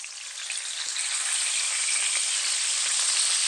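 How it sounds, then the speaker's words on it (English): Bacon frying in a frying pan gives a steady, dense sizzle with fine crackling pops, close and continuous throughout with no talk. "This is how I like to cook bacon."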